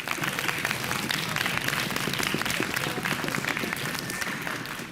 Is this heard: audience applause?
yes